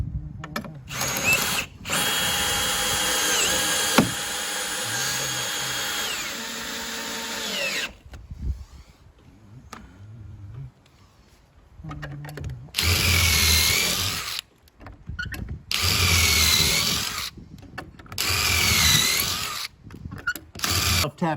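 A power drill drives a screw into an ICF rim joist, with a long loud continuous whine up close, then a quieter pause and several short bursts of drilling.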